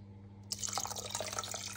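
Vinegar poured from a bottle into a water-filled pot lid while making apple jam, heard as a close, continuous splashing trickle that starts abruptly partway through and runs steadily to the end.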